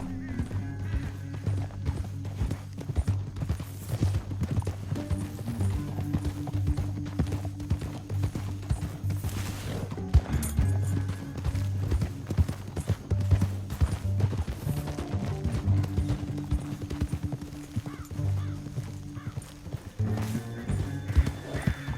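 Several horses gallop in Red Dead Redemption 2, hooves clip-clopping in a steady, close rhythm for the whole stretch, with occasional neighs and whinnies over a low rumbling game soundtrack.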